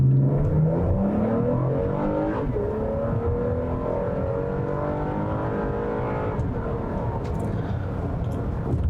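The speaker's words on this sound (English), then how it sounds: "This is a very smooth shifting transmission, smooth engine that also likes to rev." A Toyota Highlander engine accelerates hard in sport mode, rising in pitch as the automatic transmission shifts smoothly through its gears. The drone stays loud and steady inside the cabin.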